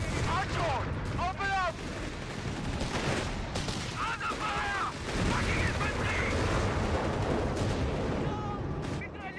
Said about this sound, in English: AT gun trying to get some shots in on the Brum.